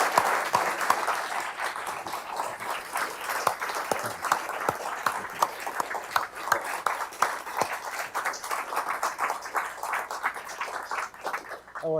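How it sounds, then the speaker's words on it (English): An audience at a Council on Foreign Relations event applauds for Richard Haass, dense sustained clapping from a large room that continues steadily for the whole stretch without talk. "a round of applause for Richard Haass"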